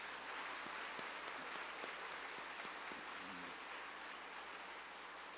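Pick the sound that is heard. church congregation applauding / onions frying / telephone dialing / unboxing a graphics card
church congregation applauding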